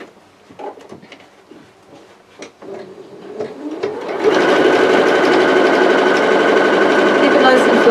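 Domestic sewing machine stitching a roman blind with its lining, starting after brief quiet handling sounds and then running as a loud, steady, continuous whirring hum.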